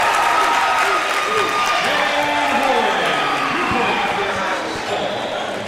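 Crowd at a high school boys basketball game, Norris against Gretna, roaring and cheering continuously in a gym after a turnover, with sneaker squeaks and an announcer's voice over the noise.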